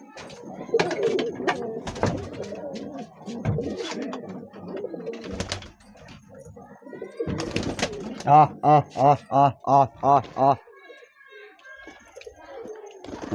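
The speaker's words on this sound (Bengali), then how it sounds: "তো এখন সব কবুতরগুলোকে ছাড়বো" Pigeons imported from Kolkata coo in a steady run of rounded, pulsing calls, close by, after a stretch of someone talking over faint bird sounds.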